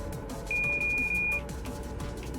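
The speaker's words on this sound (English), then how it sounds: "Can you stop beeping at me" Warning beeps sound in American Truck Simulator, three quick, clear tones run together into a near-continuous beep amid steady truck engine and road rumble.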